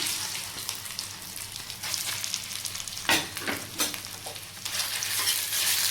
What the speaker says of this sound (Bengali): এখন আমি এটার মধ্যে সুন্দর করে আমি ফ্রাই করে নেব এই ঘির মধ্যে